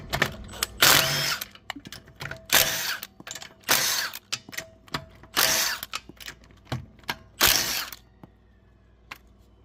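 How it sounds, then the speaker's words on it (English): An impact wrench loosens lug nuts on a Kia Sorento wheel in a series of short, sharp bursts, about nine rattling hammering blasts separated by brief pauses, close and fairly loud with faint clicks in between. "now we're going to loosen the lug nuts"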